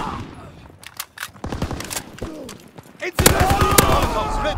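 Rapid bursts of BAR automatic rifle fire from the World War II shooter game Call of Duty: WWII, loud and close, with sharp repeated shots that build into a dense volley, under brief radio-style voices.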